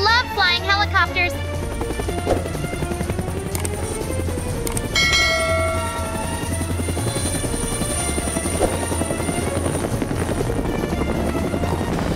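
A helicopter in the Minecraft video game whirs with a steady, loud rotor drone throughout, accompanied by ringing bell-like tones near the start and a high whine.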